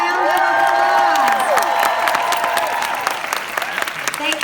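A large crowd at the Mary Kay Career Conference 2018 claps loudly and steadily with some cheering and whoops, while sustained music plays underneath the whole time.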